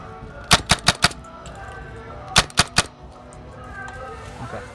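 Paintball marker firing First Strike rounds in rapid fire at about 280 feet per second, two quick bursts of four and three sharp, close shots separated by a pause, over a low background hum.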